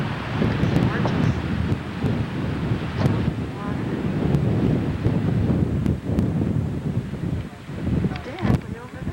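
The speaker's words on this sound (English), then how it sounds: "the wind's blowing out here" Strong wind buffets the microphone continuously in the rocky Cape Breton Highlands, a loud, rushing roar that fills the whole clip.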